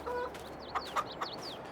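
Chickens clucking in the Farming Simulator 22 video game, a short burst of several soft, close clucks and chirps in a quiet farmyard, with no talk.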